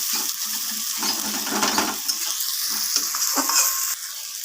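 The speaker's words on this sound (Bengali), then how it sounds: "এইবার পেঁয়াজ আর টমেটোর সাথে মশলাগুলোকে ভালো করে একটু কষিয়ে নেব।" Spices, onion and tomato sizzling and frying in a pan for chicken curry, with steady close crackle and intermittent stirring scrapes throughout, no voices.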